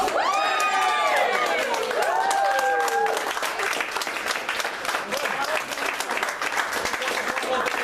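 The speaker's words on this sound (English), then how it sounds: "a big cheer for the best man, Speed!" At a wedding reception, guests break into loud applause and cheering for the best man, with whoops and shouts at the start and then sustained dense clapping.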